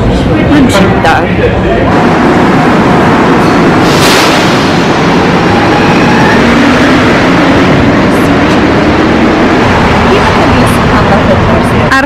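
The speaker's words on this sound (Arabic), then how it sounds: "هذا المترو هذا نمشي للدار" Riding inside a metro subway train in Canada: a loud, continuous rumble and rattle of the moving car with brief screeching swells, under a person talking throughout.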